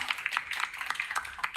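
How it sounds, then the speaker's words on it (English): An audience clapping for a speaker at a conference, a short burst of scattered, fairly close hand claps with no talk over it. "Round of applause for that, Paula."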